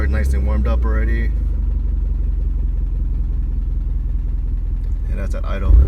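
Warmed-up 1993 Toyota MR2 Turbo idling steadily up close, a low, even engine rumble that runs throughout, with a person talking over it at the start and again near the end.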